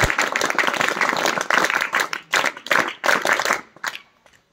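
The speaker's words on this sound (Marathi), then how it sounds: "एकदा तुमच्या स्वतःसाठीच एकदा टाळ्या झाल्या पाहिजेत असं" An audience at a college NSS camp lecture breaks into loud, close applause, dense clapping in a few surging bursts that thin out and fade to quiet.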